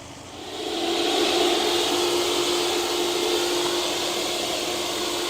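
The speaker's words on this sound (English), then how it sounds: "people have seen me vacuum in the greenhouse before and say you shouldn't use the shop vac" A shop vacuum running in a tomato greenhouse: a steady, loud whooshing roar with a constant tonal hum, rising as it starts and then holding evenly throughout.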